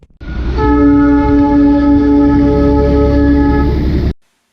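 A loud, sustained train horn blares steadily for about four seconds over a low rumble, then cuts off abruptly.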